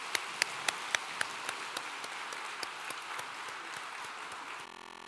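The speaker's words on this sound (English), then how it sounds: "Let's give them another round of applause." An audience at a 2017 awards ceremony honoring World War II veterans gives sustained applause, with a few sharp claps standing out at the start, before the clapping cuts off abruptly near the end.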